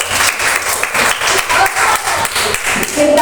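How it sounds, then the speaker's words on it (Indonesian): Close, loud applause for a group at a school gathering, brisk clapping from a modest crowd that runs steadily for a few seconds. "Tepuk tangan untuk kelompok."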